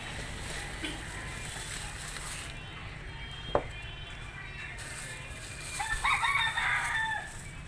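Chickens cluck steadily at feeding time, with a rooster crowing near the end and a brief sharp knock midway, all over constant outdoor background noise.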